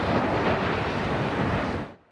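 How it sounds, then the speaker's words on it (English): Molten lava flowing from a volcano in Iceland, a loud broadband roar like rushing surf mixed with wind buffeting, steady and close before cutting off abruptly at the end. "The roar of molten lava."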